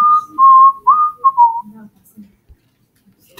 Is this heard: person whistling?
yes